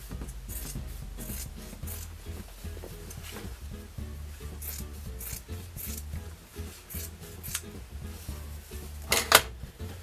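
Scissors cut through old denim jeans, removing a torn seat section to turn them into a skirt, with repeated close crunching snips and rubbing of fabric in irregular bursts, a sharper louder snip near the end.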